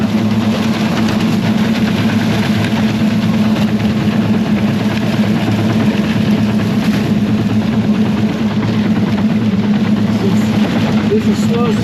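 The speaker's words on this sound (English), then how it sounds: "This is slow speed grinder." A Virtus Equipment A18-43 slow speed grinder runs through a gasket destruction test, giving a loud, steady mechanical drone with a deep hum that holds unbroken throughout.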